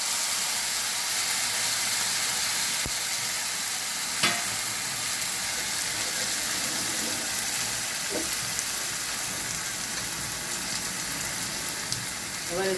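Ground tomato puree hits a hot pan for oal kochur kalia, a traditional Bengali dish, and fries with a steady, broadband sizzle. There are a few faint clinks of stirring throughout, and no talk is heard.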